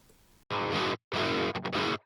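A distorted metalcore guitar part from a chorus, stacked with synth layers, plays in two loud, abrupt chugging bursts with sharp stops between, no voices.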